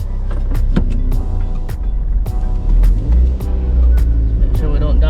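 A rebuilt, previously crashed Mazda MX5's engine revs and idles unevenly with gear changes and rattles, close up, as it pulls away and drives.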